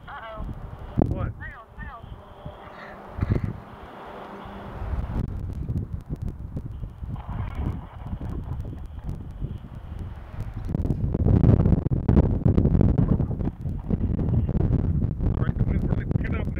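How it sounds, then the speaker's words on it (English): Strong wind from a dust storm during a heat wave buffets and roars over the microphone in uneven gusts that grow louder toward the end, while a person talks intermittently. "Alright, the wind's really picking up now."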